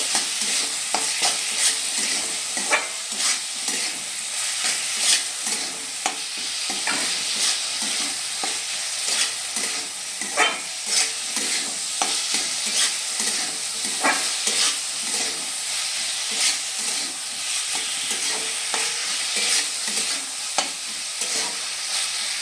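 Fried vegetables tossed with spices in a frying pan for veg dal, a dense ongoing sizzle broken by frequent scraping stirs at an uneven rhythm, close and fairly loud with no one speaking.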